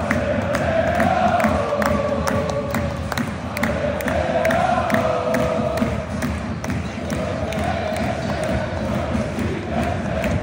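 Football fans in a stadium at the Graz derby between Sturm Graz and GAK, a continuous roar of massed crowd voices with rising chant-like swells and scattered thuds, loud and unbroken throughout.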